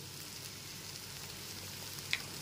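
Steamed taro stolons (kochur loti) fry in a pan over low to medium heat, giving a soft, even sizzle throughout with a faint scrape of stirring and one brief sharp clink near the end.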